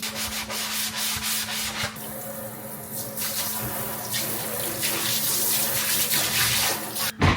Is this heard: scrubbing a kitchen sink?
yes